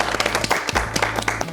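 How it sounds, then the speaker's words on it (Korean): A short burst of dense hand clapping from a small group in a youth quiz session, close and lively, lasting just over a second. "박수"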